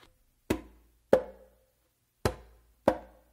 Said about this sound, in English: you're gonna go back to your left hand and you're gonna do a bass and finger.